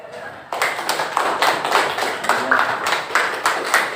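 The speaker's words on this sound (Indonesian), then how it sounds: "Tepuk tangan." A classroom of pupils clapping hands together in a rapid, rhythmic burst of repeated claps, fairly close and lively, with faint voices mixed in.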